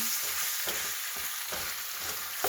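Potatoes are stirred around in hot olive oil, giving a steady close sizzle with a few soft scraping knocks from the stirring, fairly quiet and without voices.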